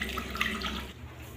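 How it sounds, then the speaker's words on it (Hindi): Water runs from a tap in a steady, soft stream while tea is being made, close by and unbroken with no voices. "चाय बना रहे हैं"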